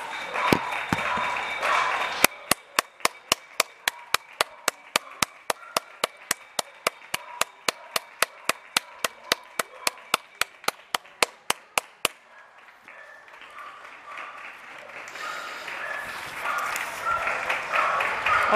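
Children in Spain clapping their hands as a daily tradition, a crisp, evenly spaced run of about thirty sharp claps in unison lasting around ten seconds, followed by faint outdoor ambience.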